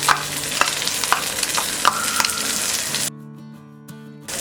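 Cauliflower, green peas and capsicum fry over a high flame on a flat tawa for Mumbai-style tawa pulao, a steady close sizzle broken by sharp scraping stirs, then cutting out abruptly to near quiet with a faint hum.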